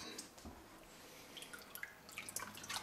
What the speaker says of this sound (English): I'm going to plug the drains so that the Drano will hold in place, and we're just going to pour